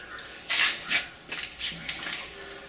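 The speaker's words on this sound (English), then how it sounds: "All we got to do now is inoculate this charcoal with the water or the compost tea mixture that we made just a minute ago" Compost tea mixture poured onto biochar charcoal, a faint splashing wash of liquid in a few uneven gushes over a couple of seconds.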